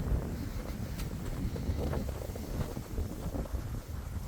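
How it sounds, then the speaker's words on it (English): Outdoor wind pushes against the microphone, a steady low rumble with soft buffeting gusts and no speech, fairly quiet and continuous throughout. "Really sorry about the wind here"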